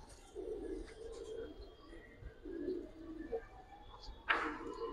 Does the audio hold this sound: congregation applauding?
no